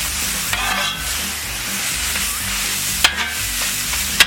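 Teriyaki cheesesteak meat and melting cheese sizzle steadily on a hot griddle while being tossed and flipped, with a few scraping clicks of a spatula over the continuous close frying hiss.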